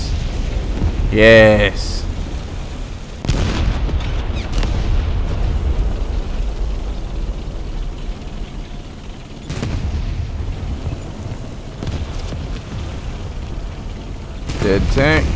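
Tank gunfire from an M4 Sherman in War Thunder, a few heavy booming shots fired on the move amid continuous engine rumble, with someone talking over much of it.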